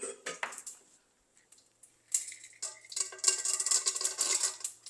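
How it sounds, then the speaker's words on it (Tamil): Chana dal, urad dal and mustard seeds crackle and spatter in a hot pan with butter, an intermittent sizzle that pauses and then builds into dense, continuous popping. "இப்போ கடலைப்பருப்பு சேர்க்குறோம் இப்போ உளுந்தம்பருப்பு சேர்க்குறேன் இது மூணும் பொரியுது"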